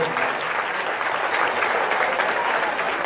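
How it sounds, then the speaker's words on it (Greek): A crowd at a youth football tournament claps in sustained, dense applause that stays loud and even throughout, with no break in the clapping. "Ένα χειροκρότημα"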